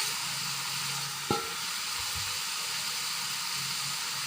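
Fried tilapia pieces drop into a pan of cooked-down sizzling spice paste, giving a steady close frying hiss with a sharp clatter as the fish goes in.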